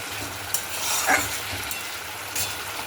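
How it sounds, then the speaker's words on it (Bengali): Spice paste sautés in oil in a kadai, hissing softly and steadily while a utensil scrapes and stirs it in a few brief strokes; no one talks. "মশলাটা কষানো যাক।"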